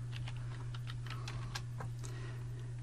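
Rapid, light keystrokes tap on a computer keyboard while HTML code is being written, an irregular close-up clatter of individual key presses over a steady low hum.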